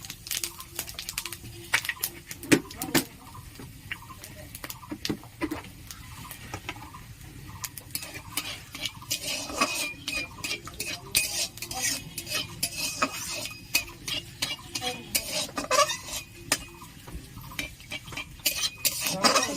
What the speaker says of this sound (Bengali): তেলটা গরম হয়ে গেছে, এখানে একটু শুকনো লঙ্কা দিয়ে দিলাম, পাঁচফোড়ন দিয়ে দিলাম